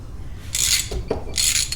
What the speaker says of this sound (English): I need the ratchet